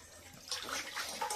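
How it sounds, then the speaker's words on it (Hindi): Khukhdi mushrooms are washed in water, giving soft, faint splashing and sloshing in a few short bursts, quiet and close, with no talk. "तो अभी हम लोग धोवा लेंगे अच्छी तरह से।"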